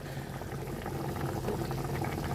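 Yakhni meat stock for pulao simmers in a pot on an outdoor Eid cookout in Kuwait, giving a steady, dense bubbling hiss with no break.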